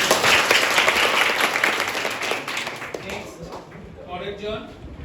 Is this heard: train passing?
no